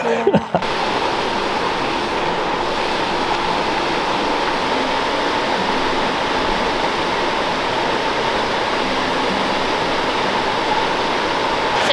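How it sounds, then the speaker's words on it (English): North Falls, a 136-foot waterfall at Silver Falls State Park that has carved a cave behind it, roars as a steady, loud, dense rush of falling water that continues unbroken throughout, with a brief knock near the start. "This is North Falls. It is 136 feet, and it has eroded this cave behind the waterfall."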